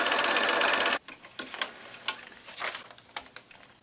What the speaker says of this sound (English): I'm just going to follow the edge of this fabric